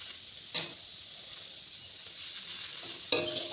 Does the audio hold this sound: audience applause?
no